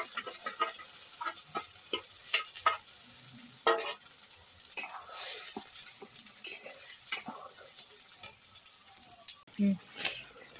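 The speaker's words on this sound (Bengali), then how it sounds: "আমি এখন ভাজা ভাজা করে নিচ্ছি এটা ভালো করে" Pointed gourd (potol) paste frying in a pan with black cumin, a soft continuous sizzle broken by frequent spatula scrapes and stirring clatters against the pan, with a high steady whine in the background.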